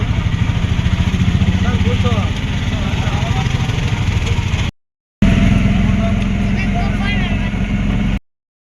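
Auto rickshaw engine droning steadily while riding along a road, a constant low rumble with wind noise, briefly cut twice, with people talking over it at times.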